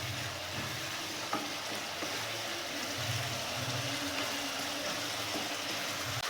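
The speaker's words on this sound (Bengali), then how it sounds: "কাজু, কিশমিশ আর চাল মগজ বেটে রেখেছি সেটা দিয়ে দিলাম, দিয়ে এটাও ভালো করে একবার কষবো।" Spice masala with a ground paste of cashew, raisin and melon seeds sautéing in a pan, giving a steady close sizzle with faint scraping and a low rumbling undertone throughout.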